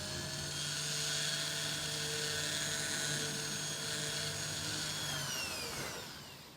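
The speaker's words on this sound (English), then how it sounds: "Now I've got to drill a hole in the head in a similar manner." A steady high-pitched whine of a small drill running continuously, close and loud, winding down at the end.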